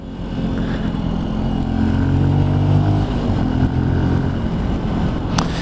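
A Benelli Tornado TNT 125cc motorcycle rides while filtering through traffic, its small engine giving a loud, steady close drone with rising and falling revs and wind rush, with no one talking.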